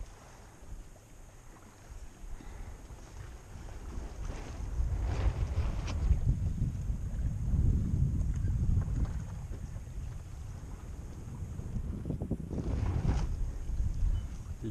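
A sailboat drifting at sea in near-calm doldrums gives off low hull and rigging creaks over a soft, steady rush of light wind and water, with no voices.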